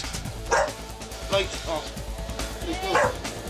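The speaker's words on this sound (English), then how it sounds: "Put that dog in a cage." A dog barks and yelps repeatedly during a police drug raid in a house, about three sharp barks close by, mixed with officers talking over it.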